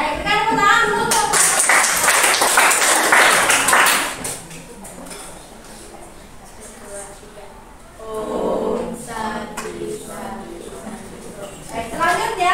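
Classroom applause for a student group that has just finished presenting, a loud burst of clapping for about four seconds before it fades into quieter room noise and talk.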